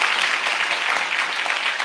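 Church congregation applauding together, a dense, steady wash of many hands clapping close and loud throughout, with no talk over it.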